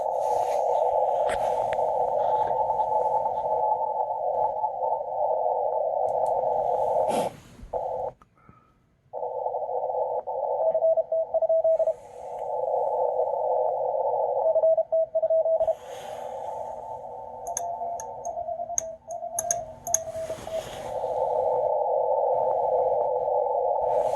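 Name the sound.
Morse code CW tones on amateur radio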